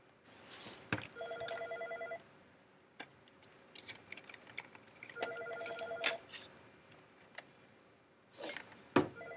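A phone rings in bursts, with repeated electronic ringtone trills in a few separate rounds against quiet room noise and scattered clicks, fairly faint and no one talking.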